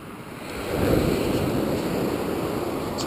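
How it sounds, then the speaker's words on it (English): Surf waves washing onto a wide Pacific Rim surfing beach, a steady broad roar that swells after the first second, with wind buffeting the microphone. "This is a surfing beach."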